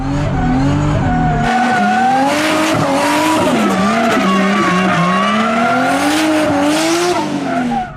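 A Toyota Mark II JZX100 drifting, loud sustained tire squeal wavering over a revving engine, close and continuous for several seconds.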